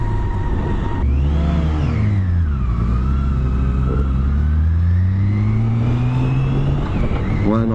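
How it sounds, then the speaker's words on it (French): A BMW K1600B bagger motorcycle pulls away on a hill, its engine rising in pitch with clutch-controlled revs, loud and close, sustained throughout with a brief drop and climb midway. "Avec un tout petit démarrage en côte là, voilà quoi, faut savoir jouer avec l'embrayage."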